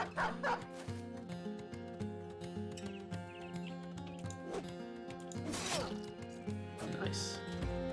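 A dog barking in the Battle Brothers video game, a few sharp yips and barks scattered over steady background music with sword-and-battle effects.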